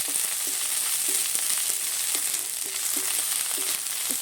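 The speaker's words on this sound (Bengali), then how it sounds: "নেড়ে চেড়ে হালকা একটু ভেজে নিয়েছি।" Small fish sizzling in hot oil with onion in a pan, a steady loud hiss of frying with soft rhythmic scraping of a spatula stirring every half second.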